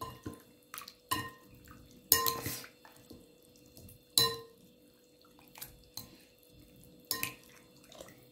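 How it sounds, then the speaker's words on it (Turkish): Chicken being stirred with pickle juice in a pot, a utensil knocking and clinking against the pot in a few separate, fairly close strikes with quiet stirring between them. "Şimdi ne yapıyoruz? Karıştırıyoruz. Hepsi birbirine iyicene özleşene kadar."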